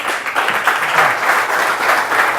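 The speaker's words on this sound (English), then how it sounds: "I'd ask you to stand up and just give Ned a warm Startup Grind round of applause." A standing audience at a Startup Grind event in Philadelphia gives Ned a warm round of applause, loud and sustained throughout, with a faint crowd murmur underneath.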